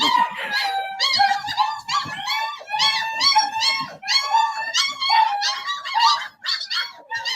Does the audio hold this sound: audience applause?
no